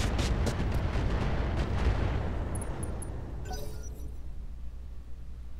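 Mech weapons in the Roguetech battle game fire a quick run of heavy booming shots, then a long rumbling decay with a few faint clicks and electronic tones, no voices.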